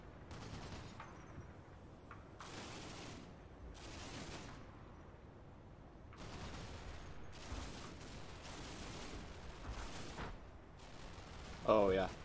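Mortar fire in the Combat Mission wargame: a series of muffled bursts and dull booms at irregular intervals, spread out and fairly distant, over low battlefield rumble. A few louder impacts come toward the end.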